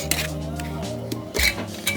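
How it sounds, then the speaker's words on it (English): Lid placed onto a glass jar of steeping basil tea, a couple of close clinks and a dull knock over a low steady hum. "Just put the lid over."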